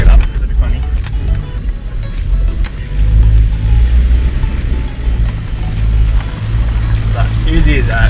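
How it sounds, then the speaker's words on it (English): A 4WD vehicle in low range crawls slowly up a steep dirt track near Dingo Creek. Its engine makes a steady, close, low rumble with bumps and creaks throughout. "I'm in low range for most of this, just so I can just slowly crawl and see what the track's doing."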